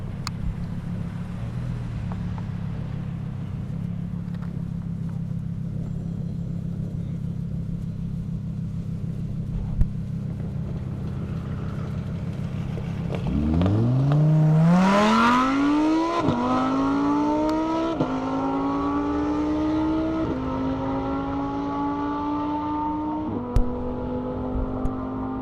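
Race cars at an airstrip, a Toyota Supra and a Lamborghini, rumble at idle and then accelerate hard, engine pitch climbing through several gear changes as they pull away, loud and sustained.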